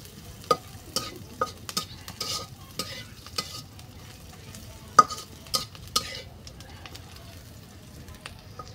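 Onions frying in a pan while being stirred: scattered scraping clacks and soft sizzle at close range, with light intermittent sound and no clear speech.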